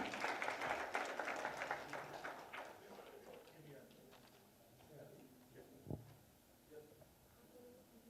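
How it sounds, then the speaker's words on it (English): A conference audience claps for an award winner, the applause fairly faint and fading over the first few seconds into room murmur and speech. "Can we have a huge round of applause for him?"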